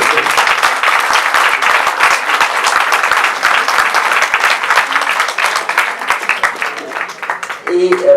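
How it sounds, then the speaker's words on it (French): Dense, loud applause from an audience at a rural community association's 40th anniversary, honouring honorary members, sustained for several seconds and then thinning out at the end, with a voice appearing briefly as it fades. "Et je vous demande de les applaudir."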